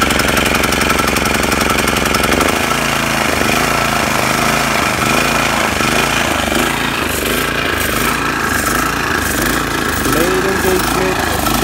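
An Exmark Commercial 30 walk-behind lawn mower engine on choke fires up and settles into a loud, steady running drone, with a voice talking over it partway through.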